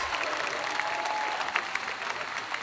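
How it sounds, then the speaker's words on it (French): A cosplay contest audience applauds Banshee and Ash in a dense, steady wash of clapping heard at a moderate distance, with a few faint voices mixed into the crowd. "On applaudit encore Banshee et Ash."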